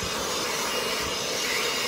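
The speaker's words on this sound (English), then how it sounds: "So I got my Milwaukee M18 leaf blower." A Milwaukee M18 battery leaf blower runs steadily and close by, a continuous loud airy whoosh with no breaks, used to clear out an outdoor air conditioning unit.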